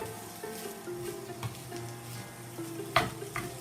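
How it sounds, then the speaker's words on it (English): Leftover salmon is broken up and stirred in a frying pan into a breakfast hash. A steady sizzle runs underneath soft scraping stirs, with a sharp clack of a utensil near the end. "break this fish up into the pan. Get it all stirred around in there to make it into a hash"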